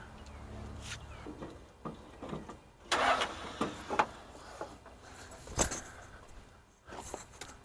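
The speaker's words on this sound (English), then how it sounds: "The engine's gonna need turned over." Engine of a Case 580K backhoe being turned over, with repeated uneven cranking bursts and clanks spread across the clip, moderately close and without talk.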